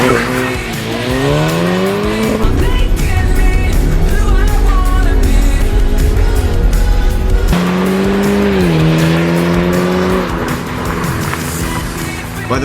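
A VW Golf R Stage Two with DSG gearbox launches from 0 to 60 in snow, engine note climbing loudly through rising sweeps with quick gear shifts and tire spin, then pulling again through more gears.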